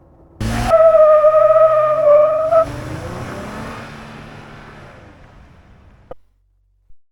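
A Jeep JL fitted with a throttle controller accelerates hard, a loud rising engine note that cuts off after about two seconds and tapers into fading road noise, followed by a couple of brief clicks.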